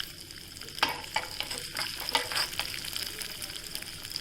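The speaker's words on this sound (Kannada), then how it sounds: "ಒಂದು ಸೌಟಿಗೆ ಕೊಬ್ಬರಿ ಎಣ್ಣೆ ಮತ್ತು ಕೇವಲ ಉದ್ದಿನಬೇಳೆ ಅಷ್ಟೇ ಮಸಾಲೆ ಹಾಕ್ತಾ ಇದ್ದೇವೆ" Urad dal frying in coconut oil gives a steady close sizzle and crackle, with sharper pops and a few stirring scrapes standing out over the constant hiss.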